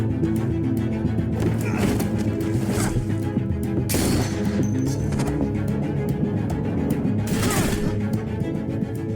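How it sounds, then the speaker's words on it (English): Rapid bursts of gunfire in the video game The Walking Dead: A New Frontier crack repeatedly over a busy, noisy background, several sharp shots standing out amid continuous clatter. "I hear gunfire."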